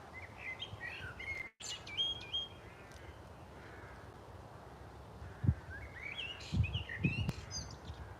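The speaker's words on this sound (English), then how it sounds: "That blackbird's got a nest nearby." A blackbird sings in short melodic phrases at moderate distance near its nest, with other birdsong and a few low thumps nearby.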